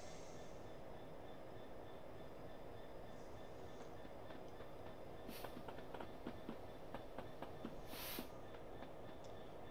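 A freight train from Huntingdon to Whitemoor Yard on the East Coast Main Line in a train simulator game rolls along steadily with a continuous low rumble, rhythmic wheel clicks over rail joints and a couple of brief high squeals, no voices.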